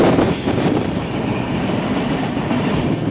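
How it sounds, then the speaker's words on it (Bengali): Passenger train running near the India border, a loud continuous rumble of carriages on the rails with a faint rhythmic clatter, steady throughout with no voices. "আমরা কিছুক্ষণের মধ্যে ইন্ডিয়ার উপর দিয়ে আমাদের ট্রেন যাবে।"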